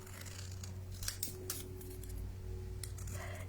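Scissors snip through paper lettering spelling a Halloween greeting, trimmed close around the words for a Halloween basket craft; a series of crisp, close cuts with short pauses between them, no talking.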